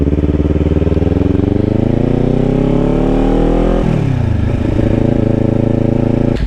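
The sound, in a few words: motorcycle engine revving while shifting up a gear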